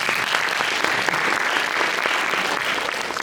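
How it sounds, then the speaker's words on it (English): An audience at a peace panel gives a panellist a round of applause, dense even clapping from many hands held at a steady level from start to finish without speech. "Give Rolly a clap."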